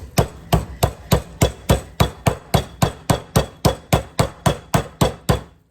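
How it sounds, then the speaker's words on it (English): A smooth-faced meat mallet flattens pork chops to a quarter inch for tonkatsu, striking in a steady, evenly spaced run of about sixteen loud, close thumps with short ringing decays. "We're going to pound these to 1/4 an inch thick."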